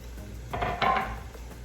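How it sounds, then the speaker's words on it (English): Jalapenos tipped into a cooking pot, a short burst of clattering and a light splash against the pot with a faint sizzle, close and brief, no voices. "now I'm about to add in my jalapenos, and I'm going to add all of those bad boys in"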